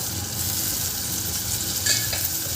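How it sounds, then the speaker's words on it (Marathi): Washed rice is tipped into a pan of cooked tomato and masala for a winter pigeon-pea spiced rice, giving a brief wet crackling fry with light stirring, close and steady, with no voices. "इथे मी हे धुतलेले तांदूळ घालत आहे."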